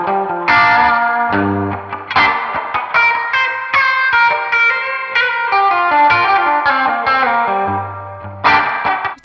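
Electric guitar on the bridge pickup through a Meris MercuryX reverb pedal plays bright, ringing notes and chords with a splashy spring-reverb wash trailing each phrase, loud and up close.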